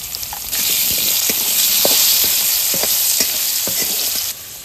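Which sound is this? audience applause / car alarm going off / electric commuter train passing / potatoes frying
potatoes frying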